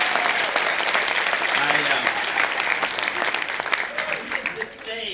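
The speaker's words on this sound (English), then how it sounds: "we have a big round of applause for all the artists that appeared before me" Applause fills a comedy club stage for the artists who performed earlier, with a steady, dense clapping wash running the full length and voices cutting through the crowd noise.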